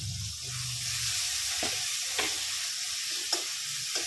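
Chopped bacon sizzling loudly in a pan with sautéed garlic, onion and tomato, a steady close hiss broken by a few soft spatula scrapes.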